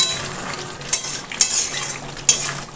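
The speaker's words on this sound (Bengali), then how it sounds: "দিয়ে আমি একটু নাড়াচাড়া করে নেব" Chicken kosha with potatoes frying in a pan while a utensil stirs it, giving a steady close sizzle broken by a few sharp scraping clinks of the spoon against the pan, with no talking.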